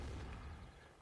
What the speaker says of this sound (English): the cannons for the Prussians already booming out those cannonballs as quickly as possible